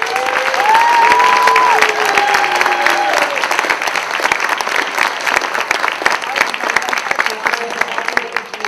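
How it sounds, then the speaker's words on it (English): A large audience at an awards dinner applauds loudly and steadily, a dense wash of clapping, with a few cheers near the start. "Let's give a big round of applause to all of you."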